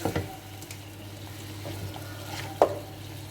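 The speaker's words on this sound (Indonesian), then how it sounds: "Saatnya kita masukin iga sapinya. Kita campur-campur" Beef ribs being stirred into a simmering, aromatic cooking mixture in a pot, with a steady low sizzle, soft scraping of the spoon and one sharper knock near the end.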